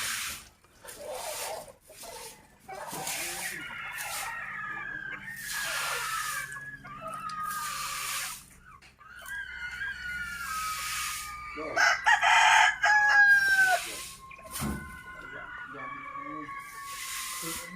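A rooster named Henry crows repeatedly and clucks after being set free outdoors, loud drawn-out calls recurring through the stretch, with people talking in the background.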